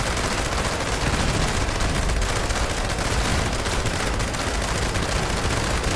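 A Gauss minigun fires continuously in Fallout 76, a dense, unbroken stream of rapid shots that fills the whole stretch at steady loudness with no pauses.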